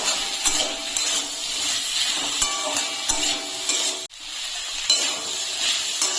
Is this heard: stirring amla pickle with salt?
yes